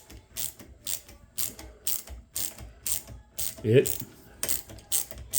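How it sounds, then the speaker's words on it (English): A quarter-inch drive socket ratchet turns a homemade jig to press a wheel out for a 3R to 2R conversion. Evenly spaced, crisp ratchet clicks repeat close up, with a faint creak midway. "I take quarter-inch drive socket, all right, and start rotating"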